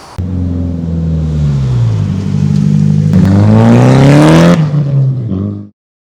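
A 2004 Toyota Mark II JZX110 engine idling then revving up loudly and settling back, heard close by with a deep, steady rumble.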